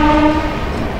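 Howrah–Tiruchirappalli superfast express train passing Santragachi junction, a loud close horn blast fading out over rumbling wheels and carriage noise.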